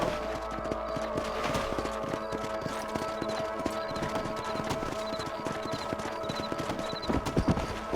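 Horse hooves clip-clop in a steady brisk rhythm while riding in Red Dead Redemption, close and continuous over faint ambient wind and tack jingle.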